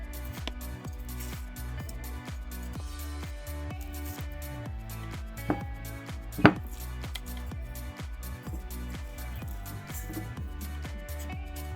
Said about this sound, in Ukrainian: моркву та картоплю порізати дрібними кубиками.